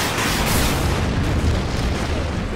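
Artillery bombardment in the Order of Battle wargame, aimed at a T-34 tank, lands as a deep, sustained explosive boom with a rumbling, roaring tail, loud and continuous without speech.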